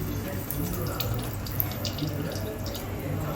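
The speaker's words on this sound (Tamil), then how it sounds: "எண்ணெய் காயிற அந்த சத்தம் வருது." Oil from frying fish heats in a cooking pot on a lit stove, giving a steady, fairly loud hiss and crackle with faint intermittent pops, heard alone without talk.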